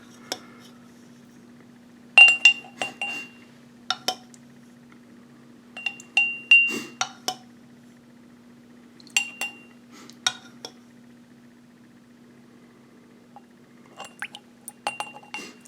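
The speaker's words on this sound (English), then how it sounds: "now we're adding 4 teaspoons of our vinegar" Teaspoons of vinegar go into lab glassware, heard as scattered sharp clinks and small liquid taps in short bursts separated by quiet, close and fairly loud over a faint steady hum.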